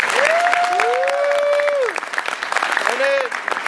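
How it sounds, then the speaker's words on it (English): An audience at a jazz ensemble concert applauds the guitarist, a dense patter of clapping with a few cheers, while an announcer's voice and a whistle-like tone sound over it. "Give him a round of applause."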